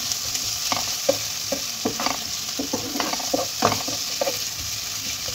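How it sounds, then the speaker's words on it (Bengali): Spices and grated ginger frying in hot oil in a pan, a steady sizzle broken by repeated scraping strokes of a spoon stirring the mixture close by, with no talk. "এবার এই সব কটাকে আমি ভালোভাবে কষে নেব"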